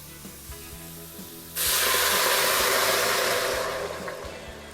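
Two litres of water pour into a pot for vegetable broth, a sudden loud, steady rushing hiss that starts abruptly after a quiet moment and gradually softens while continuing to the end, close by with no talking.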